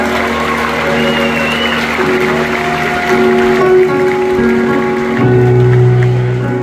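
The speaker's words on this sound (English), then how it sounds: "Can I have a big, big round of applause for this great venue and all of the staff working beside us?" Crowd applause at a concert at The Sylvee in Madison, WI, a dense rain-like clapping texture blended with sustained musical tones and crowd noise.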